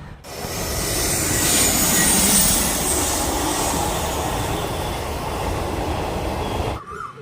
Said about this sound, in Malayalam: ഒരു ട്രെയിൻ വരുന്നുണ്ടല്ലോ